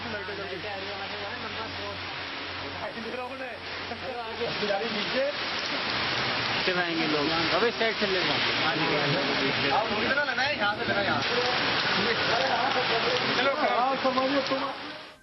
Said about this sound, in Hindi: आज जब बारिश हुई तो सभी ने राहत की सांस ली